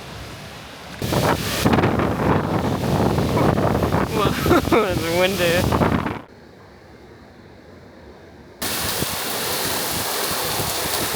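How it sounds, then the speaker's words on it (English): Strong wind buffeting an outdoor microphone on a hot day, a loud roaring rush that drops away briefly mid-clip and returns, with a person talking over the first part. "Whoa, it's windy."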